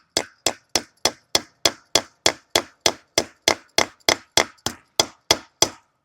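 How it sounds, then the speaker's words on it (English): Hammer driving a metal fence staple into a wooden post: about seventeen sharp, evenly spaced ringing strikes, close and loud, each with a short decay and no talk. "when I'm driving in with my hammer, a lot of times I can hear the sound of the steeple to know"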